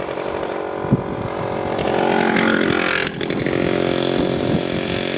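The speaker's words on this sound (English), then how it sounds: "Loud scooter." A loud, buzzing two-stroke scooter engine drones past nearby, rising in volume then fading slightly as it goes by.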